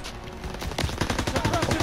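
Dense gunfire in a Call of Duty campaign battle, overlapping automatic bursts and single shots crackling steadily, with shouted voices and whistling effects mixed into the din.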